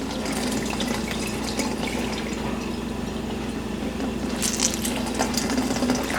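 Pressed ginger juice drains steadily, a continuous close trickle of liquid with a few brighter splashes near the end, heard alone without talk.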